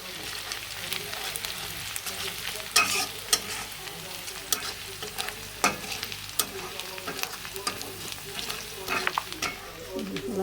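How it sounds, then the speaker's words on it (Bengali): Tomatoes frying with onions in a pan for aloo dum, a continuous close sizzle with repeated sharp scraping clicks of a spoon stirring, steady and moderately loud with no voices. "এখন আমি পেঁয়াজ ভাজার ভিতরে টমেটো দিয়ে একসাথে করে ভাজাভাজি করতেছি"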